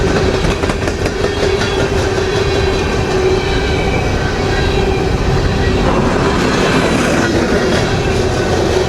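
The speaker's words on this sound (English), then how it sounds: "They've been doing a lot of combined trains on the CSX here lately" A long combined CSX freight train rolling past up close, a steady loud roar of wheels and rail clatter with faint squeal, continuous with no break and no voices.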